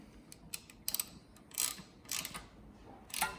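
The rear brake of a bicycle is adjusted, with a pinch bolt slackened and the cable drawn up, making faint scattered metallic clicks and short scraping bursts from the tools and cable at close range.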